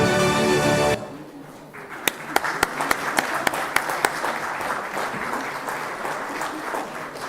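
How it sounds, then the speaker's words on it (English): Audience applause for award winners at a plenary session on economic resilience, sustained clapping that starts after a brief burst of noise and carries on evenly, with a few sharp louder claps standing out. "a big round of applause for our winners"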